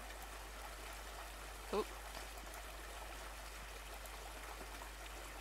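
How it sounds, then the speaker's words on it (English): Running stream water in The Divine Speaker game, a faint steady trickling wash under a low hum, with a brief voiced exclamation partway through. "I could definitely hear a faint trickling nearby."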